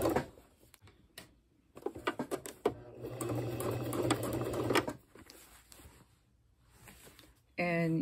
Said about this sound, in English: you can just come and sew right off of it.